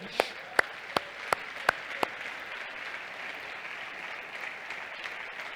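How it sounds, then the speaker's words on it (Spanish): A church congregation claps in a sustained round of applause during a morning service, with several sharp, loud individual claps standing out near the start before the clapping continues evenly. "denle un aplauso al Señor esta mañana"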